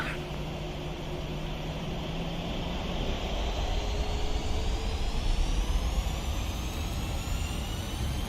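Twin jet engines of a Delta Boeing 737-800 spool up and roar on the takeoff roll in the Prepar3D flight simulator, a rising whine over a rumbling drone that grows louder and holds steady.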